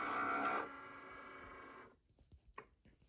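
A Cricut cutting machine working through vinyl, a close mechanical whir with a rising motor tone that stops abruptly, followed by a few small clicks and knocks in a quiet room.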